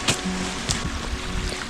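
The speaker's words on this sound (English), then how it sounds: "Other side of me you can probably hear Dubhow Gill." Dubhow Gill, a Lake District stream, rushes steadily nearby as a broad continuous water roar, with a few brief knocks on top.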